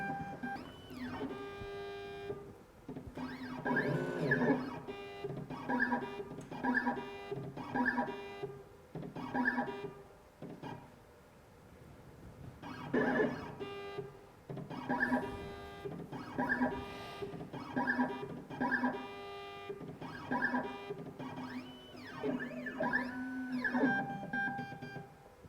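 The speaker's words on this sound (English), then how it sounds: "Now the machine is starting the decoding phases." A Silca Futura key machine decoding a key runs through repeated cycles of mechanical whirring and electronic beeping pulses in a steady rhythm, fairly close and moderately loud, with no talking.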